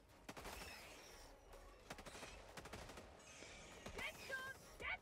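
Mortar and gunfire in the video game Helldivers: a chaotic battle scene with scattered sharp blasts and rattling shots at moderate distance, with no clear single big mortar boom standing out.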